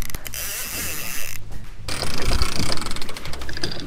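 A fishing reel ratchets and cranks steadily while a kingfish is fought on light 4 lb tackle from a boat, a loud, close mechanical clicking with a brief pause partway through.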